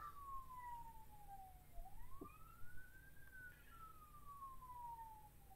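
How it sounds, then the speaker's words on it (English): A wailing emergency siren sweeps slowly up and down in pitch, audible nearby and fairly faint, with a brief knock partway through and no speech. "And there's apparently sirens going on nearby."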